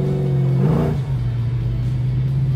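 A 1970 Chevrolet Chevelle engine rumbles with a steady low drone, swelling in a short rev before settling back to a constant hum.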